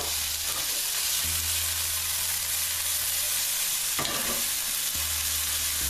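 Chopped onions fry in a pan for a low-fat mint dum aloo, hissing steadily up close while a spoon stirs them with occasional scraping knocks.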